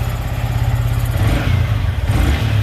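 A Yamaha R15 V3 motorcycle engine revs up close, a loud, steady throaty drone with pulsing low thrum and rising intensity throughout, no talking.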